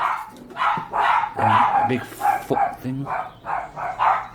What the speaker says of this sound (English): Them dogs are going nuts.